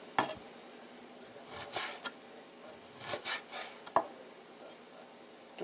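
A knife slices through a piece of home-smoked pork fat (salo) on a board, giving a few soft scraping, rasping strokes with brief knocks, quiet and close, no talking.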